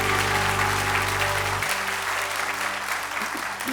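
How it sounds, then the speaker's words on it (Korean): A church congregation at a Sunday service gives its teachers warm applause: loud, continuous clapping from many people, with a low sustained organ or keyboard tone under the first half before it drops away. "우리 교사 목자님들을 위해 아낌없는 격려의 박수를 부탁드리겠습니다."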